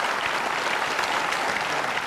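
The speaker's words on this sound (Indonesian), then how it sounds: "Jadi kita harus berikan aplaus untuk mereka." Studio audience on a television talk show applauding steadily, a dense, even wash of clapping that holds at full strength throughout with no voices over it.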